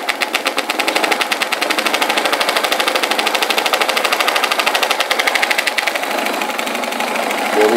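An industrial NC80800RFS sewing machine stitches wide border tape onto carpet, a fast, even mechanical chatter running steadily and loud close by, slowing slightly near the end.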